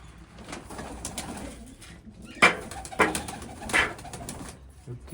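Pigeons coo softly in the background over a steady, noisy outdoor hum, with a few sharper clicks and flutters standing out midway.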